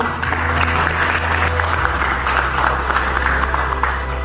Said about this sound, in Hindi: अब बताइए मेडल के लिए कुछ तालियां होनी चाहिए.